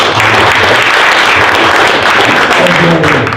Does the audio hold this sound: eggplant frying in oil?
no